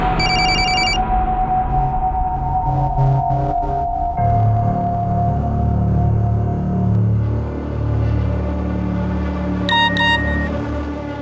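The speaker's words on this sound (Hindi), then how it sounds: "प्लीज़ मेरा फ़ोन पिकअप करो, अर्जेंट है।" A telephone rings with a bright repeating electronic tone, heard at the start and again near the end over a low humming, rumbling background.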